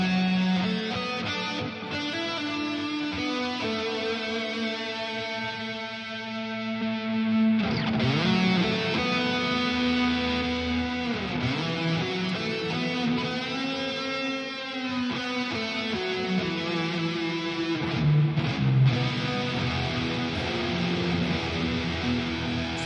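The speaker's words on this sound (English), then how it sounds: "Nice big wide doubling effect." Sustained electric guitar chords ring out thick and wide, processed through an iOS doubler effect and washed in reverb, played alone with long sustained notes and occasional chord changes.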